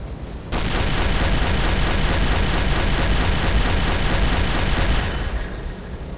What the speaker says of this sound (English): Loading, keep shooting.